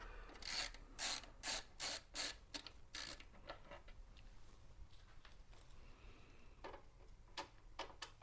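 Self-tapping plastic screws are backed out of a Gateway 2000 Family PC P5-75 case, a series of close, quiet ratcheting clicks in regular bursts, then scattered softer ticks and scrapes.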